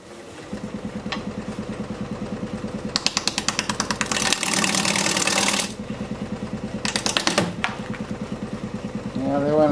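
A wood lathe spins a box elder blank at 570 RPM, giving a steady rhythmic mechanical hum with louder gouge-cutting passes in the middle and toward the end, and no talking.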